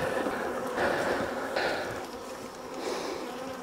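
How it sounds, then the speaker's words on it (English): Honeybees buzzing around an open hive during beekeeping work, a dense, continuous drone near and fairly loud, swelling and fading slightly as bees fly past, with no speech. "I did the trick that I just did with this as far as just shaking the bees out of the top boxes"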